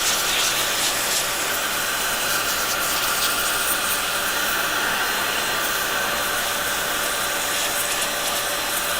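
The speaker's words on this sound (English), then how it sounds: "I'm going to blow dry this" A hair dryer blows on a computer motherboard during repair, a loud, constant close-up roar and hiss that runs unbroken from start to finish with no talk.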